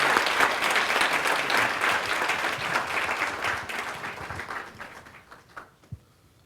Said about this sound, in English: offer Terry a round of applause for his service